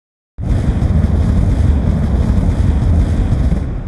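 Fire thrust of a rocket launcher designed for a video game: a loud, steady roaring rush that starts abruptly and sustains evenly, like a powerful jet of wind, alone without voices.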